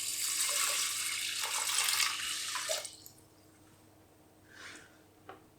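Water poured into a saucepan with smoked freekeh, a loud splashing stream for nearly three seconds that stops abruptly, followed by a couple of faint drips and small clinks.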